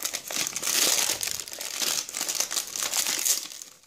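Plastic packaging of Historyland building bricks is crinkled and torn open by hand, a continuous close, loud rustling and crackling with uneven bursts.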